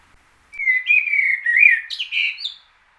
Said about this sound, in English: sunshine and some optimistic male birds singing, hoping to find an early mate